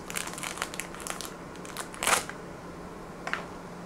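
A knife slitting open an anti-static pack: faint crinkling and rustling of plastic with a brief, louder crackle in the middle, close by in a quiet room.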